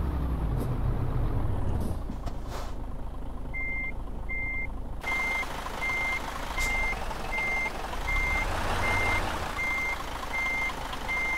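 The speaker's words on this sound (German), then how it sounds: "ich fahre jetzt hier rückwärts rein." A truck reversing in the Euro Truck Simulator 2 driving game, steady evenly spaced reversing beeps over a low engine rumble, with an air brake hiss near the start.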